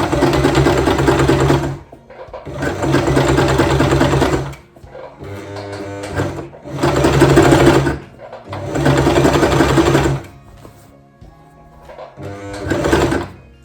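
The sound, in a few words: sewing machine stitching fabric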